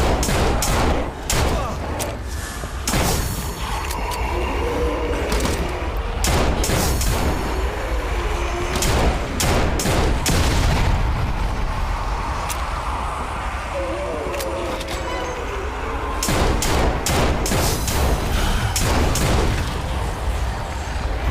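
Sniper gunfire in the Army Zombie VR game, sharp cracking shots recurring irregularly over a dense, constant rumble of battle noise, loud throughout, with brief talk mixed in.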